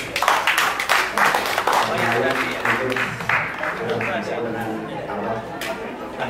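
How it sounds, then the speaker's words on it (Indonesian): Applause and scattered clapping from a crowd mixed with chatter and voices, steady throughout. "tepuk tangan buat Bunda Mary."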